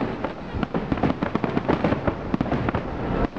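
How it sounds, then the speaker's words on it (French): A December fireworks display pops and crackles in a dense, rapid flurry of bangs, heard from moderately far off. "Ça fait vraiment bref le feu d'artifice."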